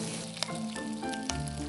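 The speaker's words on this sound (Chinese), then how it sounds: "油烧热，放饼，小火慢煎，煎半分钟，翻面，煎至两面焦黄出锅。" Egg pancake frying over low heat in hot oil in a pan, giving a steady close sizzle with a couple of brief sharp crackles and no talk.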